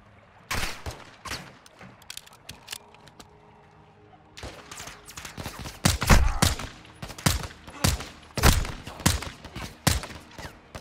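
Rapid gunfire in the video game Call of Duty Modern Warfare, sharp bursts and single shots cracking in irregular clusters, sparse at first then heavier and louder in the second half.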